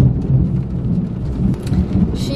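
A thunderstorm fills the air with steady, heavy rain and a deep, rolling rumble of thunder that stays loud throughout, with no voices.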